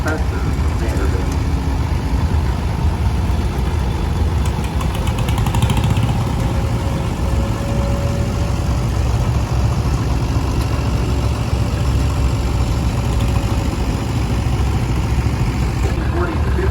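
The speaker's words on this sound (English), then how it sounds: "1954 Oliver Super 77, owned by Terry and Anna Spencer from Vander" A 1954 Oliver Super 77 tractor engine runs steadily at an antique power parade, a continuous low rumble heard amid outdoor crowd noise and a commentator talking throughout.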